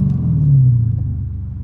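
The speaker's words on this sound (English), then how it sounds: "Listen to the intake, y'all." A Dodge Challenger R/T running with its hood removed gives off a deep, loud intake rumble that swells briefly as the engine revs, then settles back into a steady throaty idle.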